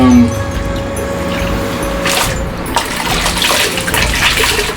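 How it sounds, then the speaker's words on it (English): Water washes down the inside of a professional hot dog and bun steaming machine (SC-RGB-2), a steady close splashing rush with a couple of stronger gushes and a faint background hum. "now what I want to do is we're going to wash down the machine"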